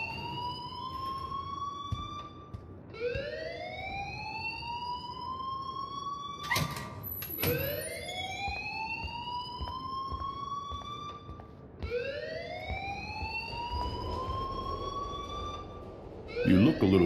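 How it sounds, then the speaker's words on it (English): In the video game Life Is Strange, a school alarm wails in repeated rising siren sweeps, each climbing and then breaking off before starting again, loud and insistent, with brief sharp bangs in between. "please turn off that alarm since that's your job."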